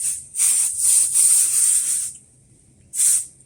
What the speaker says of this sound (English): I use this quilt basting spray, and it will wash out afterwards